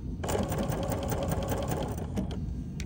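Sewing machine stitching fabric for a Tula fabric tray, a steady close whirring run that continues with a brief change as it reverses.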